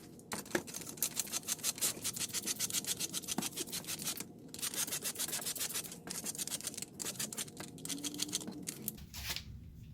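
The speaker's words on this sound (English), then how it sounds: "spray it, pre-treat it. We're gonna scrub it down and then extract it." Rapid, continuous scrubbing and brushing against pre-treated Toyota Camry car upholstery, close up and fairly quiet, in rhythmic bursts with brief pauses.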